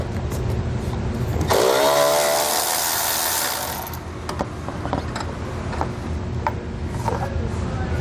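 A power tool runs in one sustained burst of about two and a half seconds, removing 10 mm bolts from the front of a mud flap on a 2019 Ford Ranger, followed by quieter clicks and handling noise.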